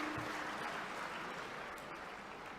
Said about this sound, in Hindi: वो बच्चों से कहेंगे हाथ उठाकर जोरदार तालियां बजाकर माननीय मुख्यमंत्री जी का स्वागत